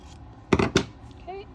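Scissors cut through sewn fabric for a tulip quilt block, making two close, crisp snips in quick succession followed by a faint rustle.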